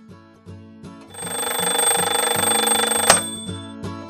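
An alarm clock rings loudly in an animated Vietnamese folk-tale cartoon, a steady rattling bell lasting about two seconds over soft background music, then cutting off sharply.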